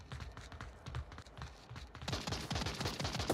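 Gunfire from a shooter video game comes in rapid, dense bursts that pile up in the second half, fairly loud and continuous with no talking.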